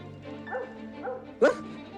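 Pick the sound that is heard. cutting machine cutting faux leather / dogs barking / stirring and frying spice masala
dogs barking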